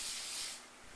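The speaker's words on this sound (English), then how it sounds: "So I will spray my pan again." Cooking spray hisses from a can onto a pan in a home kitchen, one short steady burst that fades near the end.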